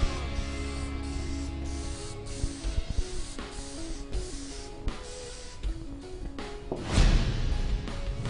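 A ColorRite aerosol can sprays a second coat of clear coat in a few short bursts, with a louder, longer hiss near the end against a faint background hum.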